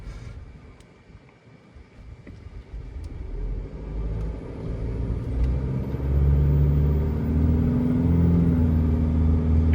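A car climbs a steep hill, its engine rumbling low and steady and growing louder and heavier as it works upward, with wind buffeting the microphone and no voices.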